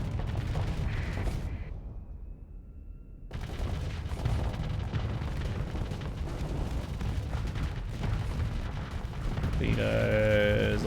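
Torpedo launches and weapons fire in the space combat game Starsector, a dense, continuous barrage of blasts and crackling shots with a brief lull early on, close and loud throughout.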